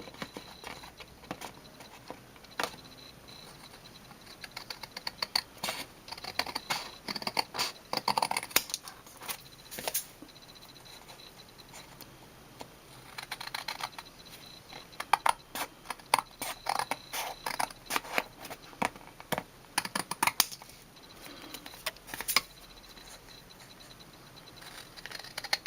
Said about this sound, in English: I'm going to take my scissors and I'm going to trim around here